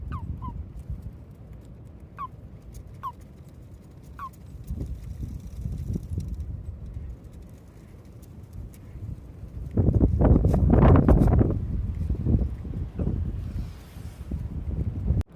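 Frogs croak in short, repeated calls beside a narrowboat on a canal, a few spaced bursts early on, then fade under louder broadband rumble of wind or handling noise that swells midway.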